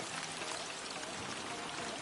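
Rain pours steadily and water runs off a roof in the video game Ghost of Yotei, a continuous soft hiss of falling water with no voices.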